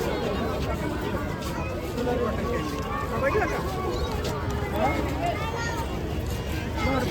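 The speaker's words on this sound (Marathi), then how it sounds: "भरपूर गर्दी आहे." Steady crowd chatter and babble at a busy riverside aarti gathering, many voices overlapping at a moderate level throughout, with nearby people talking.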